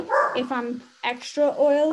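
A dog barks indoors in a few short, close yips and barks that overlap with someone talking.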